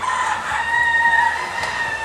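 Chickens kept in individual isolators inside a positive-pressure poultry biosecurity room cluck and crow over a constant mechanical hum, the bird calls close and moderately loud with no talking.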